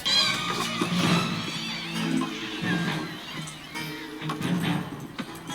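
Several meows from a cat character in the animated film Puss in Boots: The Last Wish come close together, clear and fairly prominent, with brief film dialogue and music mixed in.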